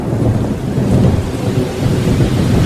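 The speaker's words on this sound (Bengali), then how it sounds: "ঝড় এলো," Thunderstorm with heavy rain and gusting wind through sal trees, set in a Bengali horror-adventure story: a deep, continuous rolling rumble of thunder over a steady rain hiss, loud and unbroken for about three seconds with no voices.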